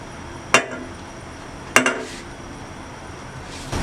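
A spoon clinks twice against a pot while stirring breadcrumbs into boiling milk, two sharp metallic taps a second apart over quiet background noise.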